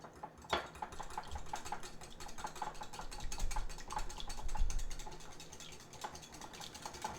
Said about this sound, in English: So I'm just going to whisk together the egg and the oil.